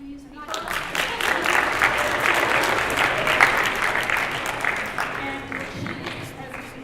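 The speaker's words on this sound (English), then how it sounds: "Applause, please." Seminar audience applause for a guest speaker swells in quickly and stays dense and lively, with murmuring voices mixed in, then tapers slightly near the end.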